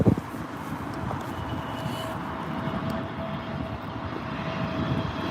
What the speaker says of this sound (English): KLM A321. I do love the A321, as all of you probably know.